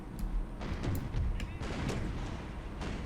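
Austrian fixed artillery cannons in Empire: Total War with the Imperial Splendour mod boom in scattered, overlapping shots, with deep thuds and sharp cracks heard at a distance over a continuous low battlefield rumble.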